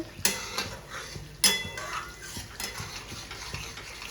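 A spice paste mixed with yogurt is stirred and sautéed in a pan for Bengali chicken kosha. A few sharp metal spatula knocks against the pan ring out over repeated scraping strokes and a faint sizzle.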